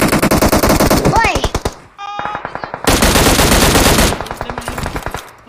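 Automatic gunfire rattles in a PUBG Mobile match, dense rapid bursts loud and close, broken by a brief pause and then another long burst, with game sounds mixed in.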